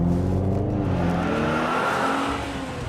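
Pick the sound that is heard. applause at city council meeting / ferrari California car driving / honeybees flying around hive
ferrari California car driving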